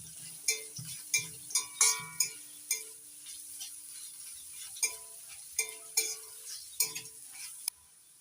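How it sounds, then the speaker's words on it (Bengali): Chopped onion being stirred in a pan while cooking a jackfruit-seed and drumstick-leaf dish: a series of sharp utensil scrapes and taps against the pan at an uneven rhythm, with a faint sizzle underneath and no talking. "পেঁয়াজ কুচিটা একটু নাড়াচাড়া করে নিচ্ছি"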